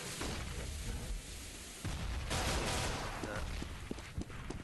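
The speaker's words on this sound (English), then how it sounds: "Short-range pistol shot, headshot from Asmo comes in" Gunfire in Counter-Strike: GO during a competitive match, with a sharp close-range pistol shot standing out among scattered bursts and game noise, under overlapping commentary.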